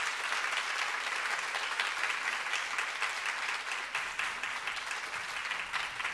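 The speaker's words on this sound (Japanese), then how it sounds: "今一度池田少年少女合唱団の皆さんに大きな拍手をお願いいたします。" Sustained audience applause for a children's choir at a concert, dense and even clapping that carries on without pause.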